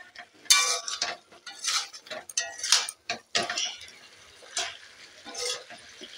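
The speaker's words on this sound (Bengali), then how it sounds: "এই মশলাটা আদা লঙ্কা হলুদ দিয়ে আমি এখন অনেকক্ষণ নাড়বো।" Chicken being stirred with a ginger, chili and turmeric spice paste for Bengali chicken kosha, making a series of close scraping and clinking strokes against the pan in an irregular rhythm, with no talking.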